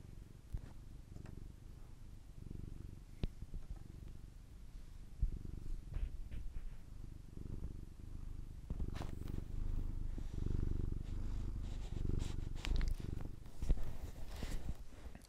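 A synthesized MIDI imitation of a cat purring from the Nintendo DSi Shop plays as a steady low rumbling loop for about fifteen seconds, with no voices.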